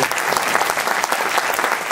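An audience at a musical tribute concert applauds the musicians loudly, a thick continuous roar of many hands clapping with steady intensity throughout.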